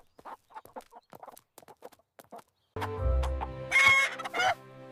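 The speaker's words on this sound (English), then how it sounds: "Wow! That is a big rooster." Chickens cluck in short bursts, then a loud rooster crows nearby.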